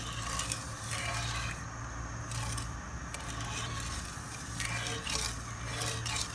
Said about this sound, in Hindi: जब तक शुगर मिक्स नहीं हो जाती हमने इसमें चम्मच हिलाते रहना है